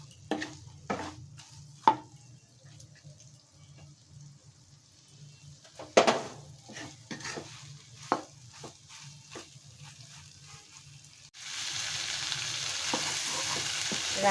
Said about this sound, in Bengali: সয়াবিনটাকে আমি একটু ভাজা ভাজা করে নিচ্ছি।